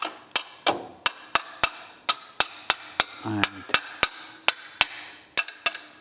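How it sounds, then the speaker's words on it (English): Sharp, close soft-hammer blows on a rear leaf spring part of an MGB GT, about twenty evenly spaced strikes in a steady rhythm with a brief spoken word among them. "So now I'm using a soft hammer to move that up."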